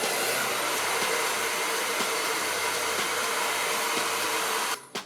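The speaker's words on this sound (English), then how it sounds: "I'm going to use a blow dryer and a ceramic round brush" A hair dryer blows with a steady, loud whooshing roar while drying hair, holding constant before cutting off abruptly near the end.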